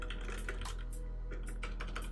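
Fingers type rapidly on a computer keyboard while someone writes Python code, a close, steady clatter of keystrokes over a low constant hum.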